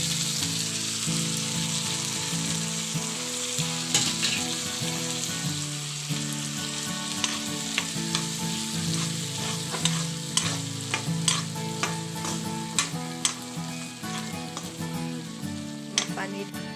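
Peas go into a hot pan with spices and fry with a continuous loud sizzle, close up, punctuated by repeated sharp clinks and scrapes of stirring against the pan.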